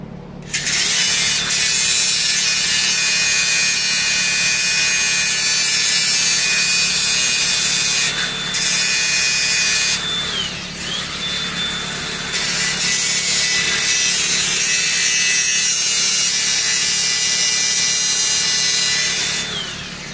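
Grinding on a broken 8.5-inch 28-spline axle: a loud, close power grinder whines continuously with harsh high-pitched rasping, briefly dropping off twice before resuming.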